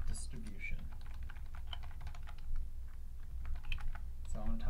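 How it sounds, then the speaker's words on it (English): Keys on a computer keyboard clatter in quick irregular bursts, light close clicks under a low background hum, with a brief faint voice at the very end. "And I'm going to type up my answers here."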